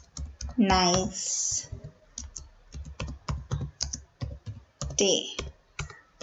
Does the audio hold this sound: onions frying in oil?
no